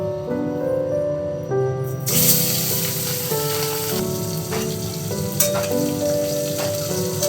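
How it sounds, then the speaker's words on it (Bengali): Pabda fish drop into hot salted oil in a pan and set off a sudden burst of sizzling. Steady, close crackling frying then continues. "এইভাবে মাছগুলো ভেজে নেব"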